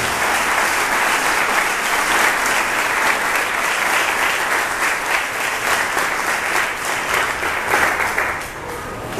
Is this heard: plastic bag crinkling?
no